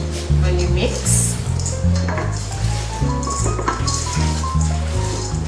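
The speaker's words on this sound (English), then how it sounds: "So you just put your coconut, about 1 full cup of coconut, and you mix." Coconut is stirred into cake batter: soft wet squishing and scraping sounds sit under a steady musical backing track that dominates, with occasional light clinks.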